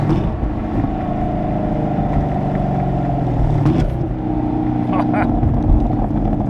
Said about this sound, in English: that active rev matching just can't be beat